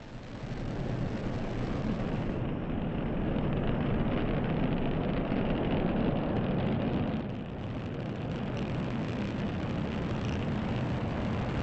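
A Delta IV rocket lifts off carrying Orion EFT-1 at dawn, a sustained deep broadband roar heard from a distance, steady and rumbling across the whole stretch.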